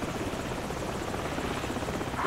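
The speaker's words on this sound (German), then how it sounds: "Feindlicher Helikopter." An enemy helicopter in Call of Duty 4: Modern Warfare: a steady, loud rotor thrum with rapid blade chop that holds evenly and swells slightly at the end, with no talk over it.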